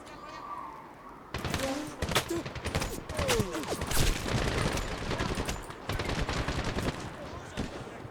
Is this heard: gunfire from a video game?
yes